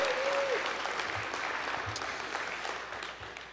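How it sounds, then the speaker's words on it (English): An audience at a Startup Canada event in Mississauga claps steadily, the applause holding loud and even before tapering slightly toward the end. "how about a round of applause for Startup Canada for putting on this event?"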